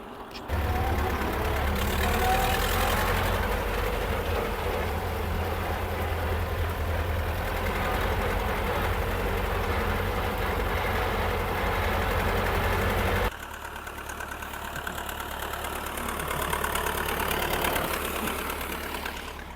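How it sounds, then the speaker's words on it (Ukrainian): A mower engine idles in an alfalfa field with a steady mid-pitched running drone and a slight knock. After about thirteen seconds it drops abruptly to a quieter, rougher level. "Запущено на холостому ходу."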